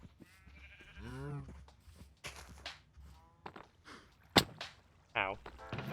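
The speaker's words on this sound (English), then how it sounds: "Devour the world's young sheep." Sheep in the video game Minecraft bleat in short wavering calls, mixed with footstep-like taps and a sharp crack, over a quiet background with sparse talk.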